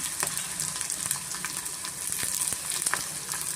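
Large onions fry with capsicum in a pan for chicken liver pepper dry, giving a steady soft sizzle with occasional stirring clicks throughout and no voices.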